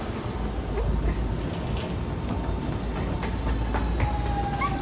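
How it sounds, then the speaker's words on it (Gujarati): A train pulls into a station in Germany, its steady rumble and rolling noise filling the scene, with a faint brake squeal toward the end and no talk. "ટ્રેન આવી પકડાઈ જા."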